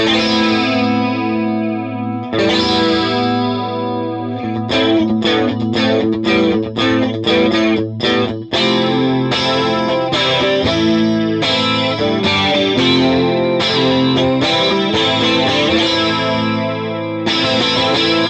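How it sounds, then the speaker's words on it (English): Electric guitar run through the flanger setting of a Sidekick Jr pedal, its chords swirling with a sweeping, jet-like whoosh; steady strumming and rhythmic chopped hits, loud and continuous. "I flick the mini toggle into the flanger for the other track"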